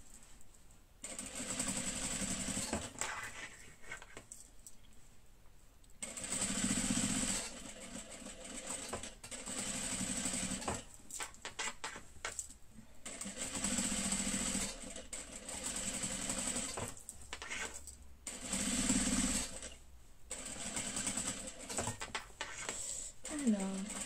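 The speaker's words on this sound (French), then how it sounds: "Et on va venir surpiquer à pas plus de 3 mm, hein, vraiment près." Sewing machine topstitching a beret close to the edge, running in several bursts of steady mechanical whirring with short pauses between, with someone speaking in between and over it.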